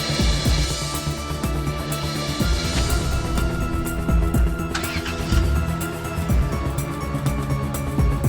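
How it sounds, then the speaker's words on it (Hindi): A car pulls up outside a building below, its engine rumbling steadily at moderate distance amid background noise, with a brief rev partway through. "गाड़ी आ गई नीचे"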